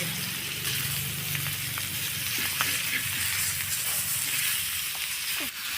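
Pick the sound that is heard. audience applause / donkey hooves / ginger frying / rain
ginger frying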